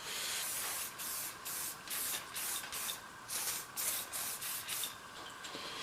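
Aerosol plastic cleaner sprayed onto the handlebars of a Yamaha 225DX motorcycle in a series of short, close hissing bursts with brief gaps between them.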